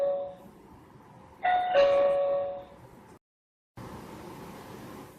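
A Kenpro KP-HD703D wireless chime paired with a Wi-Fi doorbell rings a clear two-tone ding-dong, loud and close against a quiet indoor background, then cuts out briefly before faint room hiss returns.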